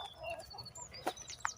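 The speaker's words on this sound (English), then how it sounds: "there's that big mean light Sussex chasing them" Light Sussex chickens and a few young birds in a spring garden plot, with a couple of brief clucks and chirps sounding at moderate distance over soft outdoor background noise.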